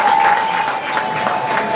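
An audience at the Gusii Creative Awards 2020 applauds in a dense, continuous wash of clapping from many hands that fills the hall at fairly high volume.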